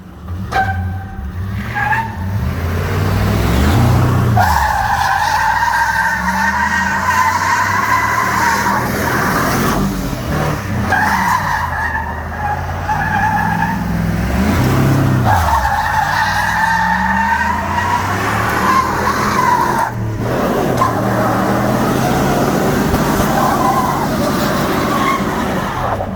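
Loud, continuous tire squealing from a Chevy Suburban doing a front-wheel-drive burnout, with engine roar rising and falling in long waves for the whole stretch.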